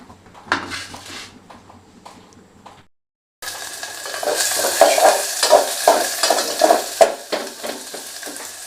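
Onion and garlic dropped into hot oil, a sudden loud sizzle starting after a brief silence, with spatula clinks and stirring scrapes over the steady frying hiss, close up.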